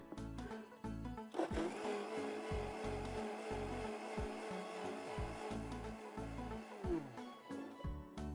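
An electric blender crushes almonds with a little water for broccoli soup, a loud continuous whirring grind with rhythmic chopping pulses from the blades, heard up close and alone.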